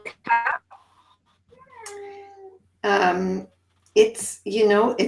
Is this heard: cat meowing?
yes